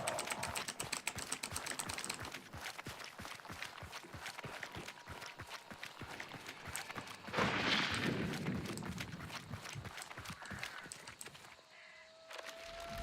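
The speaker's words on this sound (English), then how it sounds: "can you hear the tapping of the keyboard though?" Rapid typing on a computer keyboard, close and loud, a steady run of sharp key clicks that sometimes pauses and then starts again, with no voices.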